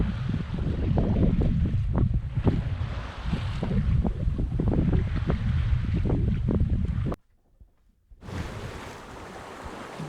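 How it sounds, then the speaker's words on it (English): A sailboat runs fast offshore in a fair wind, with rushing water and wind buffeting the mic in a dense, continuous wash that cuts out abruptly near the end and then resumes more faintly. "the wind is fair and we're sailing fast and on our way to Maine"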